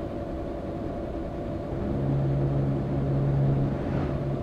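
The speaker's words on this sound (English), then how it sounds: "I don't know what that War of the Worlds noise is. It's maybe just a truck groaning, the trailer" A heavy truck's trailer groans in Euro Truck Simulator 2 over steady engine rumble, with a low, drawn-out droning moan that rises about halfway through and holds to the end.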